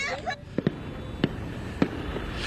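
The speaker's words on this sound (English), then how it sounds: "the fireworks still going down there" Fireworks go off on Whittier Boulevard in Los Angeles during a celebration, with several sharp, separate bangs and pops spaced across a couple of seconds, heard from a distance over a noisy crowd.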